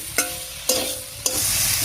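Potato and pointed gourd cooking with spice paste hiss in a pan as a ladle strikes it three times, each scrape and clink followed by steady sizzling.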